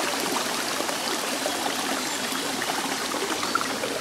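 Small forest stream, the Barsuchka river, trickling and flowing steadily over rocks near a travertine waterfall in a Stavropol woodland, a close, continuous watery wash with no voices.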